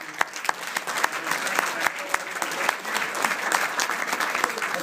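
A crowd applauds steadily at a political candidates' forum, many hands clapping in a dense, continuous patter with a few sharper claps standing out.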